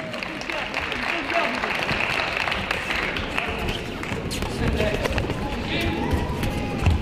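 Applause from the crowd at a boxing club gala in Les Sables-d'Olonne rolls on continuously, a steady clatter of clapping filling the hall and mixed with crowd noise.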